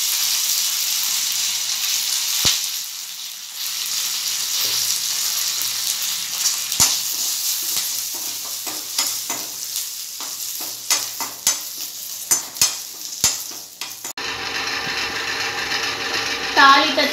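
Mustard seeds and cumin sizzle steadily in hot oil for a tempering, with scattered sharp pops and crackles and a few stirring scrapes; the sizzle grows denser and louder near the end.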